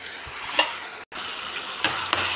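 Tomatoes stirred in a cooking pot: a soft, steady sizzle with a few quick scraping stirs of a spoon, close by and with no talking.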